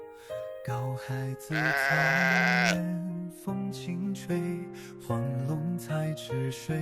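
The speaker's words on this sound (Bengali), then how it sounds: "চারদিকে দেখতে পাবেন অসংখ্য ভেড়া গরু ও নানা ধরনের পশু পাখি" Sheep on open grassland bleat in a string of close, wavering calls, one long loud bleat standing out among shorter ones, with no talking.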